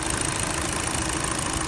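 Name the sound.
car engine idling with a noise after spark plug replacement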